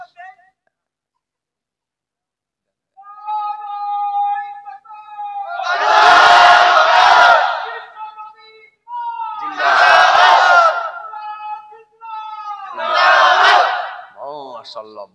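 A leader's call is answered by a crowd shouting the Nara-e-Takbir slogan at a religious gathering, three loud massed shouts, each preceded by a single voice calling out, with silences between.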